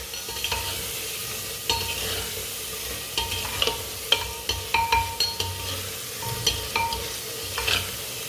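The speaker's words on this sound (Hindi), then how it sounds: "थोड़ा सा ना पका लेते हैं ऐसे मसालों को" Whole spices such as cardamom fry in a pot of hot oil as the base for mutton pulao, with a steady close sizzle broken by repeated sharp clinks and scrapes of a spoon stirring against the metal.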